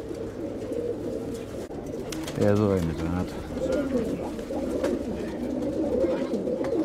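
Domestic pigeons coo softly in a loft in Kozani, Greece, a steady murmur of overlapping coos with one louder, clearer call partway through, while someone speaks briefly over them.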